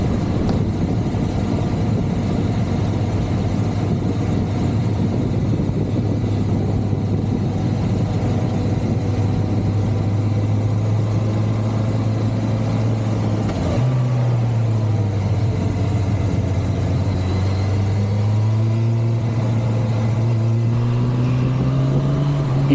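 A 1985 Suzuki GSX-R750 superbike with flat-slide carburettors is being ridden, its engine holding a steady loud drone before a brief dip and shift, then the pitch climbs again as it pulls away.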